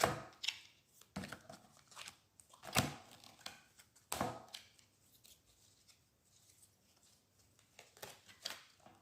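Quick papery riffles and snaps of oracle cards being shuffled, in several short bursts with pauses between, close and moderately loud, no talking.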